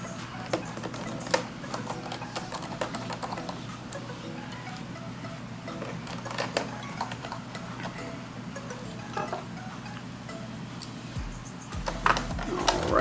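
Small screws being driven back into a laptop hard drive bay, heard as faint scattered ticks and clicks over steady background hiss, with a slightly louder burst near the end.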